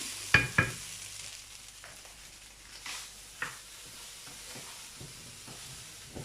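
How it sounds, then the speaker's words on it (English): Fried rice frying in a wok for a party batch, a steady soft sizzle and hiss with a few sharp clanks and scrapes of the spatula early on and occasional quieter stirring knocks. "So I've been frying it batch by batch, and this is the finishing part of it."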